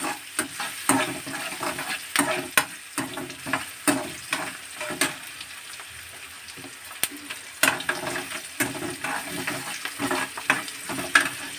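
Dal frying in a pan, a soft sizzle broken by repeated scraping stirs and clicks at an uneven rhythm, fairly close and moderate in level.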